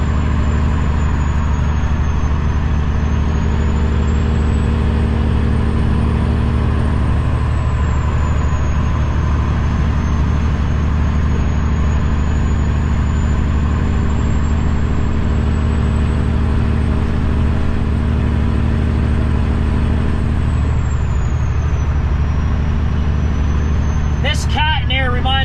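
A semi truck's diesel engine, similar to a 2005 Caterpillar C15, drones steadily and loudly from inside the cab while driving on a road, with a low constant rumble and a brief clatter near the end.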